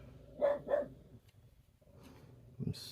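Neighbours' dogs let out two quick barks in a row, fairly clear and moderately near, then a quieter pause before a fainter bark or yip and a short noise at the end, with no talking.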